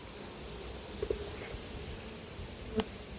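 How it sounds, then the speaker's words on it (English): A dense, steady buzz of many bees around a beehive at an apiary fills the air, with a couple of individual bees zipping close by. "quite a few bees up there still"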